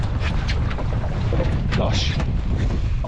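Wind rushes across a lake while a sailboat sails in strong force 6 conditions, a loud, constant buffeting roar close to the microphone with faint water sounds beneath.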